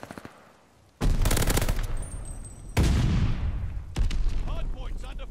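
Bursts of gunfire crack out at a hard point in a ranked Call of Duty: Vanguard match, with loud rapid automatic volleys arriving in three separate waves after a quiet start.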